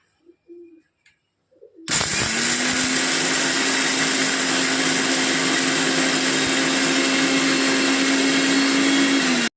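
A mixer grinder whirs steadily as it grinds coriander seeds, urad dal and dried red chillies, a loud close motor whine with gritty churning that starts abruptly after a few faint bumps and runs without pause.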